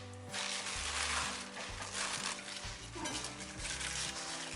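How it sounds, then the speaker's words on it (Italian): Fresh spinach cooks in a covered pot without water, salted over a lit flame: a continuous soft sizzle with light clinks and scrapes of metal, close and moderately loud, with no voices. "Li mettiamo tutti in una pentola"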